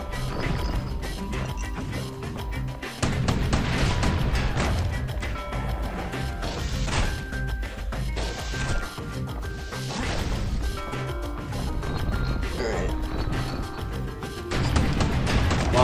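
Turrets firing in the game Bastion, dense impact and crash hits piling up over a busy, loud layer of game music and effects, with no voices.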